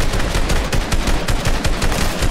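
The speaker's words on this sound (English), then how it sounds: "Buddy, keep shooting. Or I'll keep shooting." Rapid automatic gunfire in a Fortnite match, loud and continuous, a dense stream of overlapping shots with no breaks and no voices.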